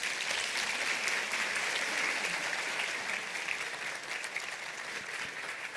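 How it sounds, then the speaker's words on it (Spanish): Steady applause from a conference audience at a formal results presentation, sustained clapping at moderate distance that fades slightly toward the end, with no talk over it. "Un fuerte aplauso."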